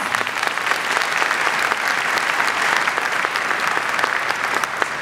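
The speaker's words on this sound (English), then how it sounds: "Let's all give them a hand of applause" A gathering for an Eid al-Fitr sermon claps for the Pasadena police, a dense, steady round of applause with many distinct hand claps, loud and continuous throughout.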